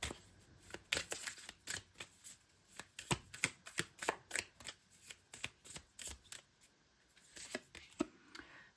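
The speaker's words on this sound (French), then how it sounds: "Alors, on va prendre quelques cartes." Playing cards drawn one by one from a deck, a steady run of crisp snapping and sliding flicks up close, each card's slap distinct and evenly paced.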